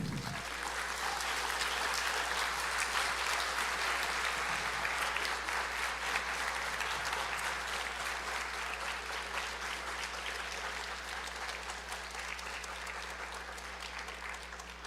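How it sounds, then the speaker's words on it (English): Audience applauds veterans at a Veterans Day ceremony: sustained, dense clapping that holds steady for the whole stretch, then slowly eases off toward the end, with a constant low hum underneath. "Let's give a round of applause to our veterans here today."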